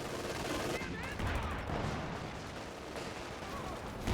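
Gunfire and blasts from a war video game, a dense continuous barrage of shots and explosions with a commentator's voice running over it.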